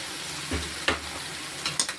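Tomatoes tipped into a pan of half-cooked peppers and stirred for chapathi noodles, giving a steady low sizzle broken by a few soft scraping knocks and a couple of sharper clatters near the end, with no one talking.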